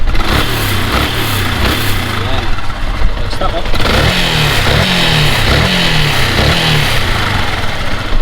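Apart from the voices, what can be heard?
motorcycle engine revving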